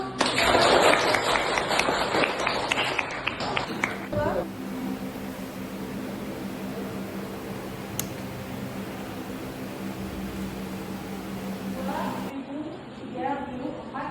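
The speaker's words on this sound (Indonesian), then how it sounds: "Luar biasa, tepuk tangan dulu." Students in a classroom clap their hands in a loud, dense burst lasting a few seconds, which then gives way to a quieter, steady background hum.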